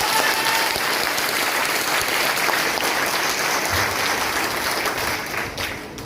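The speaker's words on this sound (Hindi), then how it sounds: "एक बार अपने लिए जोरदार तालियां बजाओ।" At a motivational sales gathering, a large crowd claps for itself, filling the hall with a dense and sustained wash of applause that eases slightly toward the end.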